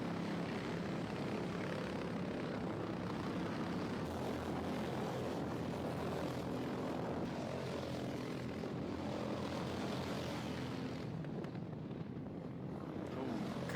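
Racing karts lap steadily in a nine-hour endurance race, a continuous droning engine roar holding throughout at a fairly even level with no clear individual pass-bys.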